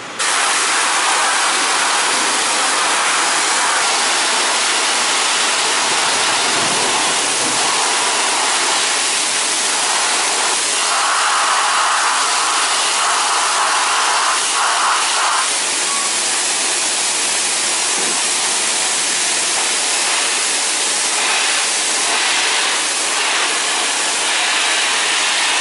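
Steady broadband hiss of a pressurised water jet spraying onto removed Honda Activa scooter clutch parts, loud and continuous with slight shifts as the spray moves, no talking.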